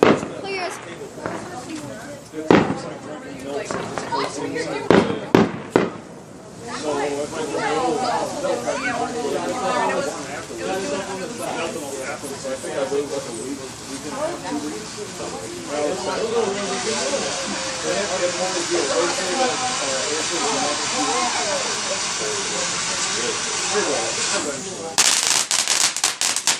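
Fireworks set off outdoors, with a few sharp firecracker bangs early on followed by a long sustained hissing, crackling burn and a final burst of pops, while people talk and exclaim over it.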